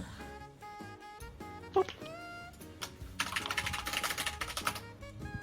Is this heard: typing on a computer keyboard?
yes